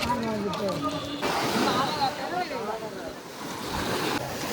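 Steady wash of sea waves rolling in at Rameswaram under gusty wind noise, with indistinct voices now and then in the background.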